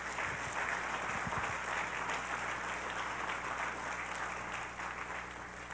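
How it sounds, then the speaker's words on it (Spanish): A congregation at a Christian church service claps in praise, a steady wash of applause heard at low level over a constant background hum, fading slightly near the end. "Dele fuerte el aplauso al Señor."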